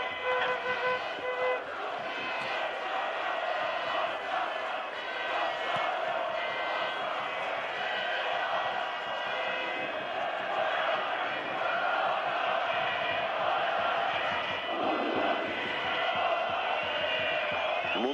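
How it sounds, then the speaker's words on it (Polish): A football stadium crowd at a 1995 Poland v Romania international keeps up a loud, continuous roar and chanting from a distance, with a commentator talking over it throughout. "Doping publiczności"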